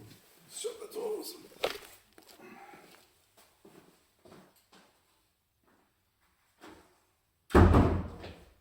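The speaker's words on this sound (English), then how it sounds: "Shut the doors." A heavy door thuds shut once near a wood-burning stove that is smoking, loud and close, following scattered quiet talk and small movement sounds in the room.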